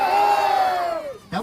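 A loud drawn-out shout from a crowd at a rural kabaddi match in Rajasthan, the many voices rising together in one sustained cheer before breaking off, followed by a brief fresh yell.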